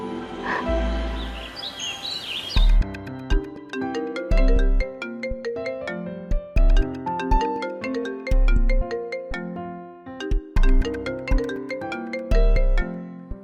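A mobile phone rings with an incoming call from the caller's mother. The melodic ringtone is loud and close, opens with a chirpy trill and continues as a repeating pattern of bright chiming notes over a pulsing beat.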